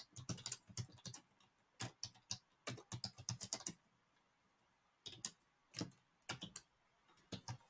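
Typing on a computer keyboard while entering an amount into an app, close crisp key clicks in quick bursts separated by short pauses, alone without talk.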